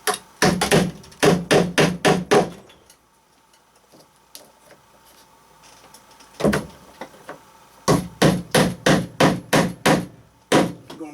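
Repeated hammer strikes drive J-clamps to hold PEX water pipe across a floor joist, two quick bursts of about eight sharp, close blows each separated by a quiet stretch with light handling noise.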